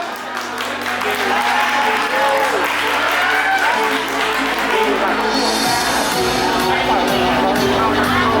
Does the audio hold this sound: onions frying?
no